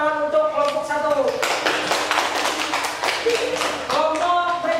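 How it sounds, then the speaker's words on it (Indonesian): A classroom group applauds a presenting team, a short burst of many hands clapping close by, bracketed by a teacher's voice speaking before and after. "beri tepuk tangan untuk kelompok 1"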